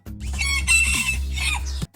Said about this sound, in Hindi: इस मुर्गे को देख लें, इसकी अजान तो शुरू होते ही ख़त्म हो जाती है